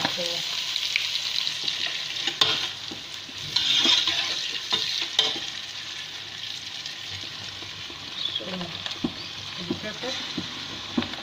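Crayfish and onion fry in a pot for ekpang nkukwo, giving a steady close sizzle with scattered stirring scrapes and clinks throughout.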